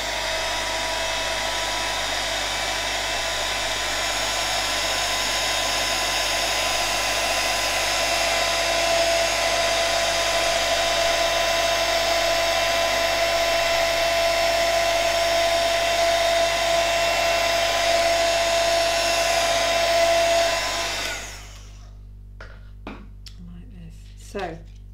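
A heat gun melts embossing powder on paper die cuts with a steady, close, whining blower roar that runs unbroken for about twenty seconds before switching off, leaving a quiet room with a few faint clicks.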